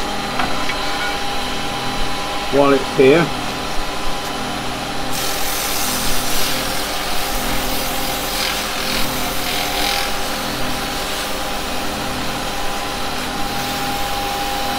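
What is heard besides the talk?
sanding a wooden hummingbird carving on a running lathe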